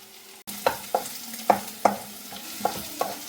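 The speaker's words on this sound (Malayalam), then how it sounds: "അപ്പോൾ ഉള്ളിയും ഉരുളക്കിഴങ്ങൊക്കെ നല്ല ലെവലിൽ ഇങ്ങനെ മൂത്ത് വരുന്നപ്പോൾ വന്നിട്ടുണ്ട്." Onions and potatoes frying in a pan sizzle quietly beneath a run of about seven rhythmic spatula scrapes and taps against the pan, each one sharp and close.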